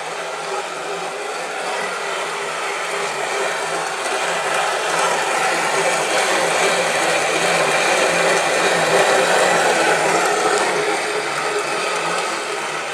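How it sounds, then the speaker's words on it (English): A pedal-powered bicycle milling machine runs steadily, giving a continuous loud grinding whir that holds an even level throughout without a break. "Here we have the bicycle milling machine"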